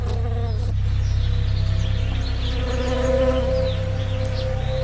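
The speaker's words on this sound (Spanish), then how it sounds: "millones de abejas son transportadas hasta aquí para que ayuden en la polinización de los almendros" Honeybees brought in to pollinate California almond orchards buzz in a dense, continuous drone, loud and close, with no voices.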